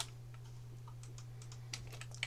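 Computer keyboard typing while drafting lines on a cadastral map in CAD software: a few soft, scattered key clicks and a couple of sharper taps, faint over a steady low electrical hum.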